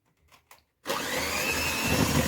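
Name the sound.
electric mixer beating an egg into cookie dough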